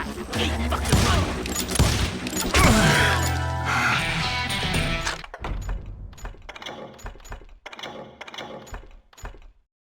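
Gunfire in the Western shooter Call of Juarez: Gunslinger: a loud, dense stretch of action sound gives way to a rapid string of sharp, separate shots over roughly the last five seconds.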